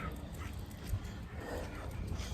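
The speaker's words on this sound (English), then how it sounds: "my sled dog, Bowser" A sled dog whimpers and gives faint barks, distant and low under steady background noise outdoors.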